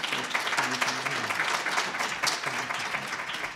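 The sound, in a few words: audience applause for presenters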